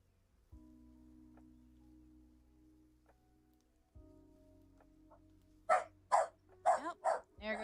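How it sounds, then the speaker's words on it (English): A dog lets out a burst of five or six loud, sharp barks in quick succession, following several seconds of a low, steady electrical hum. "Yep, there goes the dog."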